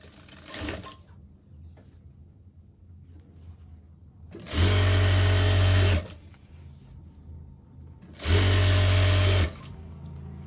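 Two short, loud runs of a sewing machine stitch the seams of a 12-panel palazzo, separated by a few seconds of near silence.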